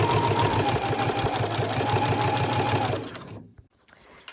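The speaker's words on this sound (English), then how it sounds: "So my raw edges are matched up here, and I'm sewing in the crease." A sewing machine stitches backpack lining fabric along a crease with a fast, steady mechanical whirring and close rhythmic needle clatter for about three seconds, then stops, leaving a few faint handling sounds.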